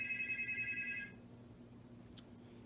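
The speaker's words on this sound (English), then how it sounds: "phone ringing" A phone rings nearby with a short, bright electronic trill that stops after about a second, leaving a quiet room with a faint low hum and one small click.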